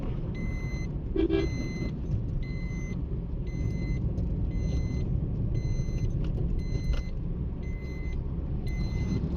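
A car rolls along smoothly with a constant, even rumble of engine and road noise, while a faint electronic beep pattern chirps at regular intervals in the background.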